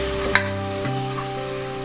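Chicken kushka masala with onion is stirred in a pressure cooker. A spoon clinks once against the metal over a continuous, close sizzle of frying.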